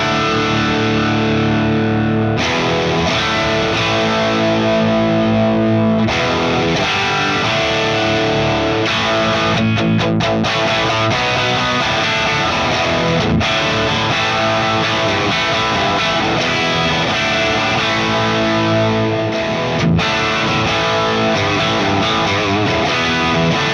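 Distorted electric guitar played through an AM4 rock rig, captured with a ribbon mic and blended between two cabs: thick, saturated chords and riffs ring out loud and continuous, with brief choppy stops, and no voices.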